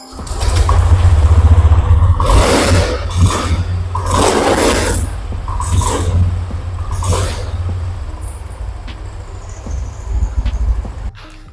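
A Honda Beat Deluxe automatic motor scooter engine revs hard in repeated bursts, sputtering and stumbling between throttle blips over a steady low idle, recorded close up.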